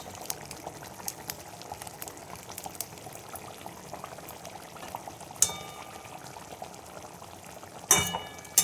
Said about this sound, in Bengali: দেখো দিয়ে দেবো আমি টমেটো সস